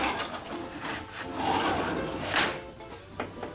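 A hand ratchet clicks rapidly while bolts are tightened on the rear door of a Jeep CJ7. The strokes come close and clear in quick bursts, with no talk.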